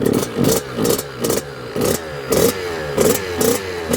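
A motorcycle engine revs in short bursts about twice a second, each blip rising then dropping back to idle, close up.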